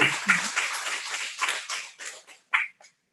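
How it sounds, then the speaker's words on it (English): Audience at a Licensed Practical Nursing graduation clapping together in a round of applause, a dense close patter that gradually thins into scattered claps before fading out. "we can just have a special round of applause for Kathleen Alfonso"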